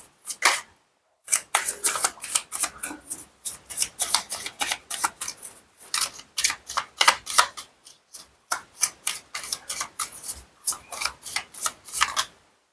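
Tarot cards are shuffled in quick, rhythmic bursts of crisp riffling and slapping, with brief pauses between runs, close and fairly loud with no talking.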